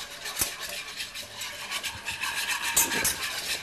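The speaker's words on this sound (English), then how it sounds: "I like my whisk for this action here." Whisking flour into a roux in a pan with a metal whisk gives a steady, close scraping and rubbing that swirls in quick continuous strokes, with no talk.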